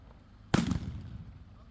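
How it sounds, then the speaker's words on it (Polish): One sharp, loud gunshot bang rings out close by during a police counter-terrorism exercise and fades into a short rumbling echo. "Sprawca oddaje dwa strzały w kierunku policjantów."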